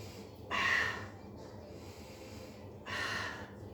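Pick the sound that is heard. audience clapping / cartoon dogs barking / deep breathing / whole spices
deep breathing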